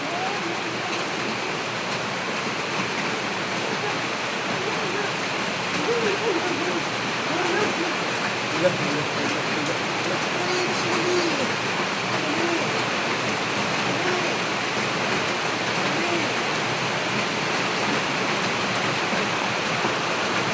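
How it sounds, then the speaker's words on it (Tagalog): Heavy rain pours steadily as a dense, continuous hiss of water falling on surfaces, loud and unbroken for the whole stretch with no clear talk over it. "Kasi malakas ang ulan"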